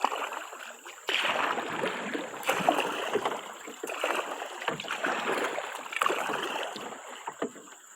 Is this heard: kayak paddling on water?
yes